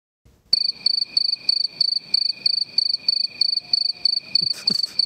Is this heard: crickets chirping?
yes